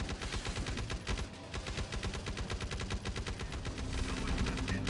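Rapid, dense gunfire from the player's weapon in the video game Awakened, a continuous automatic rattle of loud, closely spaced shots running without pause.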